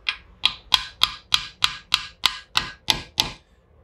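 A punch tapped against a Yamaha 150 outboard lower unit, eleven sharp metallic taps in a steady rhythm, close and distinct with no talk.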